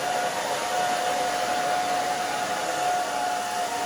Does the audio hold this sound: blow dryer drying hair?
yes